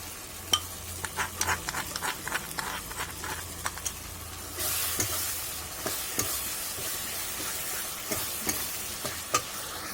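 Spice paste with ground nuts stir-fried in a pan as beaten yogurt goes in: quiet spatula scrapes and taps at first, then a steady, hissing sizzle rises and continues under irregular stirring knocks.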